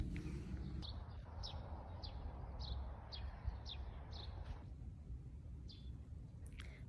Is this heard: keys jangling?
no